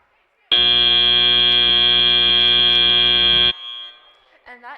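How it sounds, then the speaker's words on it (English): A loud, steady electronic buzzer sounds for about three seconds and then cuts off, marking the end of an FTC robotics qualifier match in a competition hall, with faint crowd noise and talk afterward. "And that is the buzzer letting us know that we have ended our game."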